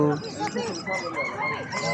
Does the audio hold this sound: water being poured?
no